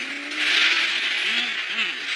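A sports car engine in a futuristic setting gives a steady, loud rushing drone with a faint tonal hum underneath, running throughout with voices talking over it.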